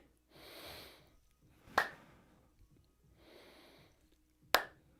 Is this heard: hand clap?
yes